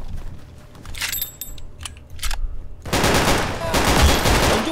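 Sustained full-auto fire from an STG-44 assault rifle in the Roblox shooter Unit 1968, a dense rapid burst taking over after scattered clicks and lighter shots, loud and continuous to the end.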